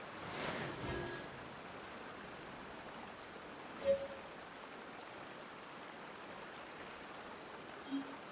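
A small waterfall in the Genshin Impact game world makes a steady, soft rush of falling water. The wash of noise is even and continuous, with a couple of faint, brief game blips over it.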